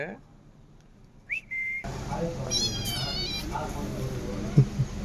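A white cat gives soft, thin, high-pitched meows, a short cry followed by a longer drawn-out one, close by, with faint voices in the background.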